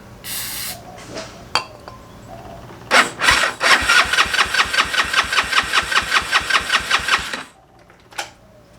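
A Honda Ruckus scooter's GY6 171cc engine cranks with a rapid, steady chugging pulse for several seconds, then cuts out without catching; a few brief clicks before and after.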